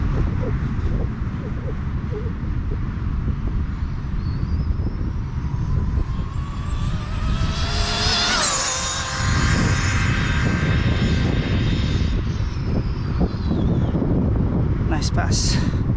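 An Arrma Typhon RC car sweeps past at full throttle during a speed run, its high whining motor rising and falling in pitch as it nears and recedes amid steady wind noise outdoors.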